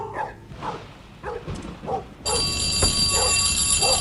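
A dog in the video game Metel barks in a steady series of close yips, about two per second, and a shrill ringing alarm starts halfway through and keeps sounding over the continuing barks.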